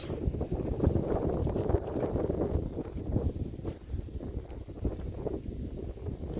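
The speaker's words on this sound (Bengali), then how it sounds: "কি হাওয়া রে" Strong wind gusts over open country by a marsh, a continuous loud rumbling buffet against the microphone that stays steady throughout with no talking.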